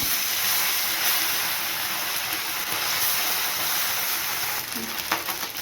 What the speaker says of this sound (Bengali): এখন মাছগুলোকে ভেজে নিই